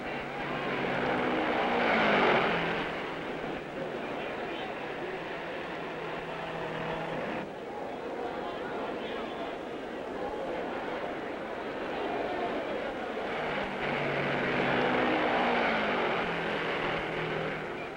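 Race cars roar at the 1958 Indy 500, engines droning steadily with rising and falling pitch as cars pass, the sound continuous and fairly loud across the whole stretch.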